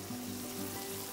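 Chicken sauté frying in a pan with a pepper mixture going in, a steady close sizzle with a soft stir or splash partway through, no talking.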